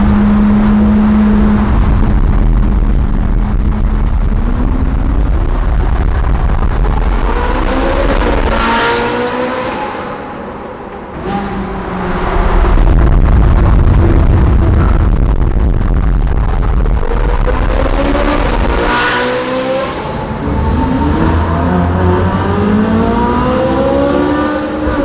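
Supercars crawl through traffic on a road trip from Germany to Switzerland. Loud, close engines hum and rise through several revving accelerations, easing off to a lull around the middle before picking up again, with no talk.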